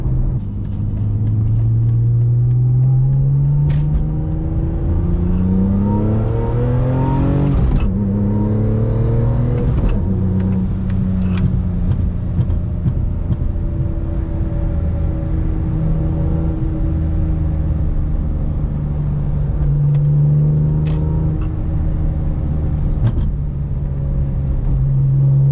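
A BMW E46 M3 engine and exhaust sound close and loud on a drive. The revs rise and fall through the gears, with a deep rumble and clear shift breaks.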